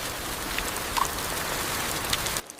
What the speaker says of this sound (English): Rain struck the plastic.